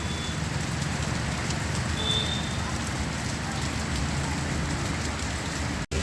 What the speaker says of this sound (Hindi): अच्छी एक बारिश सुबह सुबह देखने को मिल रही है रुड़की में।